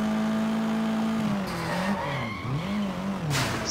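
A stolen car skids in the Sleeping Dogs video game, a steady engine drone giving way to tires squealing in wavering, swooping pitches, loud and continuous with a burst of noise near the end.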